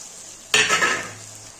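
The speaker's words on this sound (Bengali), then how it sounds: "পেঁয়াজটা ভাজা হয়ে গেছে, এবার আমি মশলাগুলো সব দিয়ে দিচ্ছি।" Spice paste drops into fried onions in a hot pan for a Bengali-style chicken and potato curry, letting out a sudden loud sizzle that carries on under scraping stirring. No one speaks.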